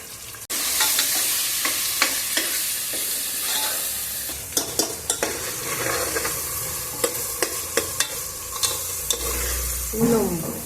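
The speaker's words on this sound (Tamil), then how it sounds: "இன்னும் வெங்காயம் வதங்கணும்." Onions sizzle steadily in a hot pan while being cooked for egg biryani, with repeated sharp scrapes and taps of a stirring spoon over the frying. No one speaks.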